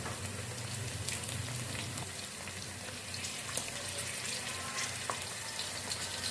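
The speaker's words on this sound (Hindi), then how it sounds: "अब इसमें हम मटर डालेंगे और साथ में इसको भी हम फ्राई कर लेंगे मटर को।" Peas sizzling in a pan while frying for vegetable pulao, a steady close hiss with scattered crackles and pops throughout, no talk.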